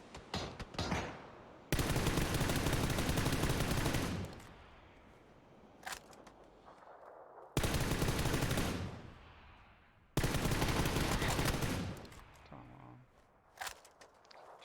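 Video game shooter gunfire comes in three long, loud bursts of rapid automatic fire separated by quieter gaps with footsteps and scattered single shots, while someone talks over it.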